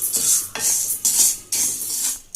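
Black urad dal is dry roasted in a pan, stirred in rhythmic sweeps that produce loud, gritty rattling scrapes in about four close strokes, with no talk.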